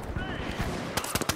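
LH1 rifle fire in THE FINALS, a quick cluster of crisp shots in the last half second, following a short stretch of low in-game rumble.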